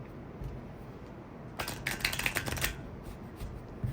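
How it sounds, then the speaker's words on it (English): A deck of playing cards is riffle-shuffled during a magic trick at the beach: one quick, crisp burst of fluttering card clicks lasting about a second, set against soft ambient background noise. "Then we give it a second shuffle."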